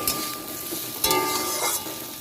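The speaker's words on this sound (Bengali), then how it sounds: "আলু, পেঁয়াজ, পেঁপে খুব ভালো করেই ভাজা হয়ে গিয়েছে। এবার আমি পেস্ট করে রাখা মশলাটাও অ্যাড করে দেব" A spice paste of white cumin and green chilli is stirred into potato, onion and papaya frying in oil for a fish curry, giving close, steady sizzling with scraping strokes of the spoon that swell around the middle.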